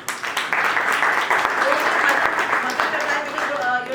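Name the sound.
audience applause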